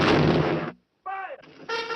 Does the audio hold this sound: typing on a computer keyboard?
no